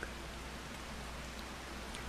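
Steady rainfall in the Farming Simulator 25 video game, a soft continuous hiss of drops pattering on surfaces, fairly faint and even throughout, with no voices.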